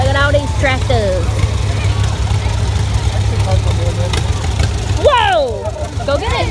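Tractors rumble past in a Christmas parade, a steady low engine drone close by that runs the whole time, with children and adults talking and calling out over it.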